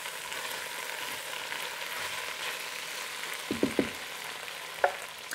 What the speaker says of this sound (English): so while that's finishing up browning